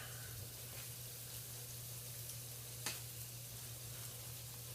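Butter melting in a hot preheated pan before pork goes in, a steady low sizzle with a faint hum beneath and one brief sharp crackle near the end.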